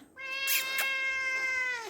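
An abandoned female cat gives one long, drawn-out meow lasting close to two seconds, loud and near, with no talk over it.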